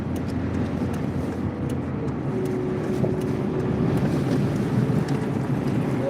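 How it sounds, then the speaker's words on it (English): Wind roars steadily around a car driven with all its windows up, a loud, continuous broadband rush with no break and no voices. "All of these windows up, and this wind is hawking"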